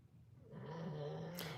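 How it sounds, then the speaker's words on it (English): A man snoring, one low, rumbling drawn-out snore swelling up after a quiet start and holding steady, ending in a brief sharp snort-like burst, faint and alone without talk. "Sorry for him snoring."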